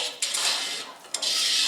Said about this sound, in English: That nasty sound you hear is just rust on the brake rotor.